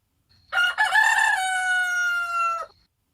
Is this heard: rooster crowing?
yes